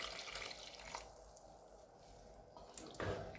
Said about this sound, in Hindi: अब इसमें 2 गिलास पानी डालेंगे